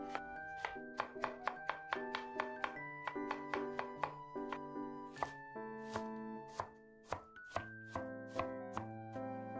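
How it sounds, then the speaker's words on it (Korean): Apple chopped with a knife on a board, a quick run of crisp knocking strokes in uneven bursts, close and distinct, with no talking. "사과 반개는 가운데 씨 부분을 제거하고 채 썰거나 다져서 준비해 주세요."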